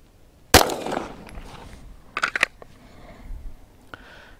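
A single sharp, loud gunshot from a Canik TP9 SFX pistol during a circle-break shooting drill at 9 metres, followed by fainter clicks and handling noises, with no talk.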